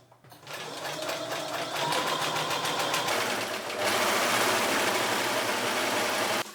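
A sewing machine stitches a sleeve into the armhole of a shirt made from an old tablecloth, running in a steady mid-level whir that speeds up partway through, with no voices.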